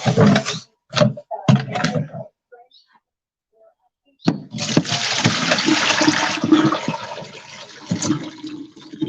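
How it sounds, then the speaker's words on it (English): Cabbage rinsed in a colander under a running kitchen tap: a few short clunks and handling knocks, a pause, then a steady close rush of water that runs to the end with small splashes. "I'm just gonna rinse it one more time just to make sure I get all the dirt out"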